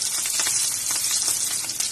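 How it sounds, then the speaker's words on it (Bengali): Marinated rui fish pieces fry in hot oil in a pan, giving a continuous close, bright crackling sizzle with no talking. "এবার আমি প্যানে তেল দিয়ে দিয়েছি, মাছগুলো ভালোভাবে ভেজে নি"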